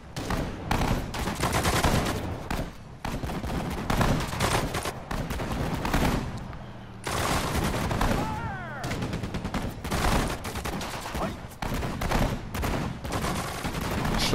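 Soldiers firing in the Sudden Strike 4 Pacific War campaign: dense, continuous battlefield gunfire with overlapping rifle and machine-gun bursts, loud and sustained, broken by brief lulls.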